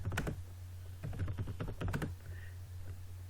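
Quiet bursts of keystrokes on a computer keyboard, a few quick clusters of clicks over a low steady hum, entering text into a Linux text file.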